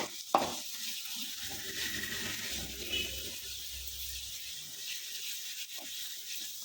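Ginger and garlic frying in a pan, stirred steadily with a ladle, giving a continuous close sizzle with scraping strokes and a sharp clank near the start.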